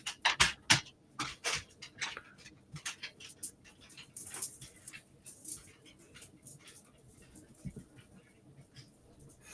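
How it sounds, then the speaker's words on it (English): A dog in a room near a billiards table makes soft whimpers and faint yelps, with light pattering movement between short bursts, fairly close but quiet overall. "Sorry if y'all heard the dog there."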